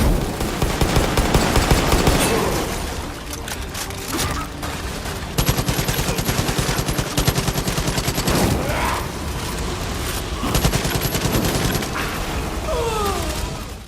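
Dense, continuous gunfire from the Far Cry 5 video game, with rapid automatic bursts and volleys of shots layered with mechanical clatter, loud and sustained throughout with brief swells of heavier firing.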